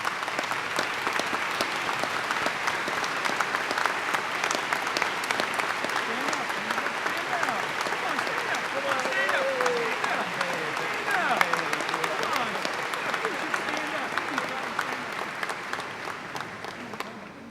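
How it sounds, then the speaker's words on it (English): Sustained applause from a large crowd filling a hall at a university commencement, steady throughout and tapering slightly at the end. "please stand so that we can salute you with our applause"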